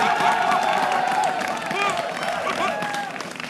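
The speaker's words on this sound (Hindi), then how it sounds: "आप लोग की भरपूर तालियों में हमारे साथ रूठी हुई सांस मौजूद है" A studio audience at a cricket talk show claps and cheers, a sustained wash of applause with some whoops and voices mixed in.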